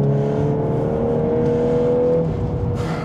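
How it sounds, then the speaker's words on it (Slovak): Close-up engine note from a VW Golf 8R sliding on worn summer tires along a country road, a steady loud drone with strong harmonics that holds through the slide and tapers near the end. "Krásny power slide"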